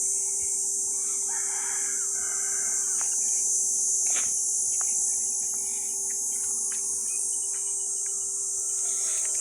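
Rain insects call from trees after rain as a loud, steady high-pitched drone that runs unbroken throughout. Faint background birds and occasional short clicks sit beneath it, with no talking.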